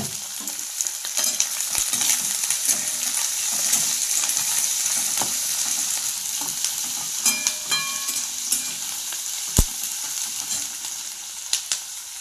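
Onion and capsicum frying in a pan for a paneer curry, a steady close sizzle with occasional stirring scrapes and clicks running throughout.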